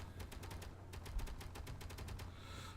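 Rapid bursts of gunfire in the video game Space Engineers crack in quick succession over a low steady hum, fairly quiet and without voices, ending in a softer hiss.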